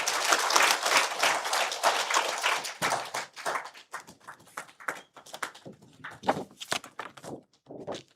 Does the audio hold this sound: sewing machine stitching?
no